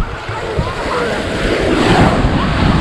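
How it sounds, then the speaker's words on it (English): Big ocean waves break on a beach with a loud, rushing surf wash and heavy wind buffeting the microphone. Voices are faintly present under the roar. "A lot of waves."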